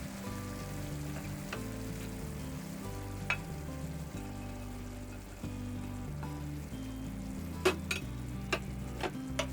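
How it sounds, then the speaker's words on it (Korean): Green onions get stirred into a pork kimchi stir-fry in a hot pan, with a steady sizzle and a few sharp scrapes and clicks of the utensil under a low, continuous background of music. "파를 잘 섞어주세요."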